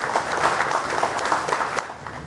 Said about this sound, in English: So we really want to give them a round of applause too.